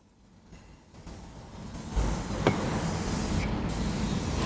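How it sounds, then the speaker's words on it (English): Mopar fabric protector sprayed from close range onto a car's cloth seat bottom, a steady continuous aerosol hiss that builds and holds loud for several seconds, with no talking. "Then we'll spray the seat bottom."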